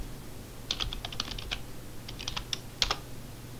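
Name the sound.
typing on a computer keyboard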